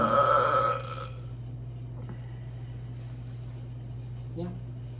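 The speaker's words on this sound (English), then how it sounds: "So this is a mukbang burping video." A burp erupts loud and close at the start of a mukbang eating session, then fades into quiet room tone with a soft rustle later.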